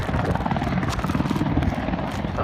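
An Apache helicopter flies at an airshow, its rotor and engine giving a loud, continuous low throbbing roar with steady pulsing.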